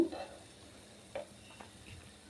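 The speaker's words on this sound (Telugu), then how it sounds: "ఇలా మీడియం ఫ్లేమ్లోనే ఇలా తిప్పుకుంటూ చక్కగా గడ్డంతా కూడా ఇలా ఫ్రై చేసుకుందామండి" Bread slices for double ka meetha fry in a pan over a medium flame as they are turned, giving a faint, low sizzle broken by a few soft stirring clicks.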